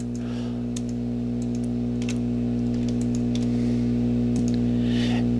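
Computer keyboard keys and mouse clicks from work in CAD software, scattered sharp ticks over a steady low electrical hum, close and fairly quiet.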